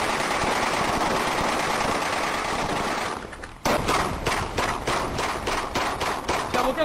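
Rapid automatic gunfire in a video game: a dense, loud roar breaks off briefly, then resumes as a fast, clearly separated burst of close shots that runs to the end.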